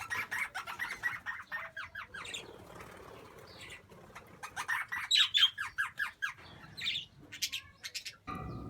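English budgies and other small birds in an outdoor aviary, with young budgies just fledging, chirp and squawk in quick bursts close by, mixed with repeated fluttering wingbeats.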